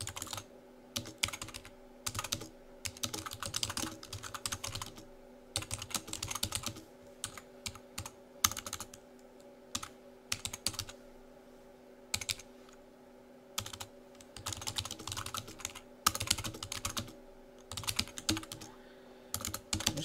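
Rapid typing on a computer keyboard, close and fairly quiet, in bursts of keystrokes separated by short pauses, with a faint steady hum underneath.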